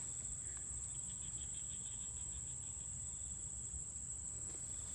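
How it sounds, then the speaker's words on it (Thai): Night chorus in rice fields: a steady high insect-like trill runs throughout over a low dense bed of croaking and chirping calls, continuous and moderately loud with no voices. "เสียงกบเสียงเขียด"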